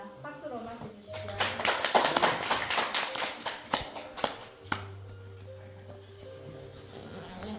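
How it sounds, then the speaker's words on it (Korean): Applause from a seated audience at a traditional Korean tea ceremony gathering, welcoming a royal descendant; clapping swells for a few seconds then fades, with a low hum and murmuring talk beneath. "박수로 맞아주십시오"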